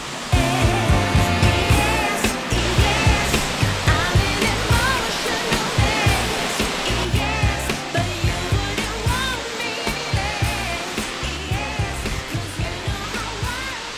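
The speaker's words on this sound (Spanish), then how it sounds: "estas son las famosas cascadas de Marinka en Minca Magdalena" The Marinka waterfalls at Minca in Magdalena, Colombia, give a loud, constant roar of falling water that fills the whole scene, steady and broadband with no pauses, and faint voices occasionally show under it.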